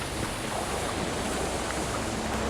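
Steady surf washes on a beach in the indie horror video game Daylight, a constant hissing roar of waves at moderate level with no voices over it.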